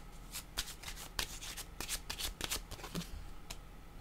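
Tarot cards being shuffled by hand, a soft, steady riffle of papery flicks and rubs in quick irregular bursts, close up and quiet with no talking.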